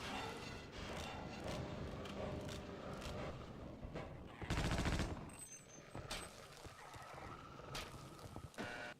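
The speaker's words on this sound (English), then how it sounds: "whenever you fire the machine gun, you get, it has a recoil, which pushes you backwards" Machine gun fire in the video game Half-Life: Opposing Force, heard as a loud, dense burst of rapid shots lasting about half a second over a busy layer of game sound.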